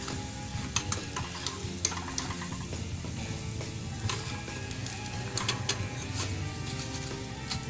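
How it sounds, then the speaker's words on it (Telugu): Bubbling, crackling oil sizzles steadily as bajji made with ajwain leaves deep-fries, with occasional sharp clicks and scrapes of a utensil close by. "వేగుతుంది బాగా చూడండి వేగుతుంది చక్కగా"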